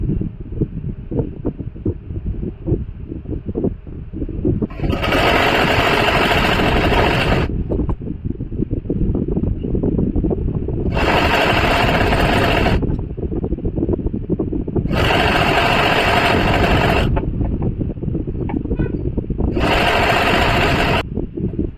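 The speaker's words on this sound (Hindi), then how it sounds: "और यहाँ से चारों पीस अच्छे से पकड़ के बराबर बराबर फिर लगाएंगे इस सिलाई को।" A sewing machine stitches a hidden seam through four layers of salwar fabric and lining, whirring in four steady bursts of a few seconds each, with quieter rustling of cloth and motor hum between runs.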